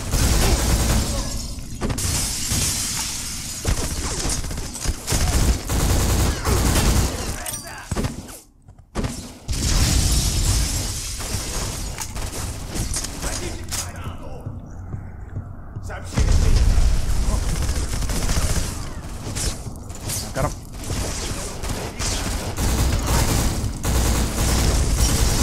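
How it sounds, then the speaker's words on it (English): Loud video-game combat from Black, a first-person shooter in a farmhouse shootout, with booming blasts and bursts of gunfire aimed at red boxes, running almost continuously with brief gaps and talk mixed in. "always shoot the red boxes"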